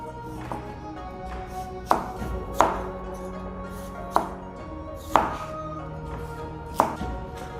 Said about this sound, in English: I like to cut the radish at an angle, turn it slightly, and then cut again